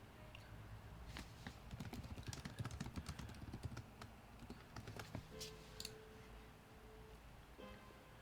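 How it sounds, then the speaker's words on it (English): Someone types a chat message on a computer keyboard, producing a quick run of close, crisp key clicks that thin out toward the end. "let's try typing something"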